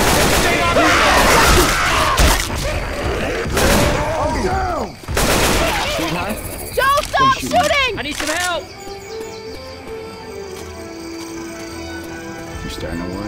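Gunfire in Left 4 Dead 2, a dense run of close, loud shots that thins out partway through, with shouting voices and chirpy game effects mixed in.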